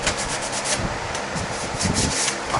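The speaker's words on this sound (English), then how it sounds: "This is 180 grit, getting the big chunky areas" Hand sanding of a car's front bumper bar with 180-grit sandpaper, a steady close scratchy rubbing that runs without a break.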